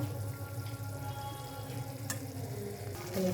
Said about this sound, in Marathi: फ्राय केलेल्या व्हेजिटेबलमध्ये तुम्ही भात टाकून घेऊया.